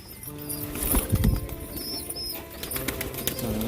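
Pigeons, a racer and a red bird among them, flap out of a loft in a quick flurry of wingbeats that builds to a peak near the middle, with rustling and a faint background hum around it.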